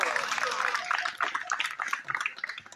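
An audience at a spiritual quiz competition claps for contestants, a brief dense patter of hands with a voice speaking over it.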